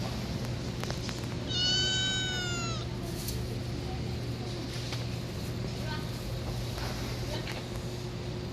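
A cat meows clearly at a street junction in an alley in Oryu-dong, Guro-gu, Seoul, a short rising-and-falling call over a steady low hum of street background.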